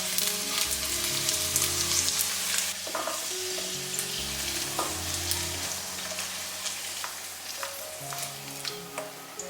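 Whole single-clove garlic stir-fries in hot oil in a wok, making a steady close sizzle with spatula scrapes and clinks as the cloves are tossed, no voices.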